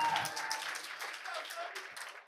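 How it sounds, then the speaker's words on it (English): Church audience applause for a testimony speaker named Sunny, a steady wash of clapping hands lasting a couple of seconds at moderate loudness with a voice faintly underneath. "Let's give a round of applause to Sunny."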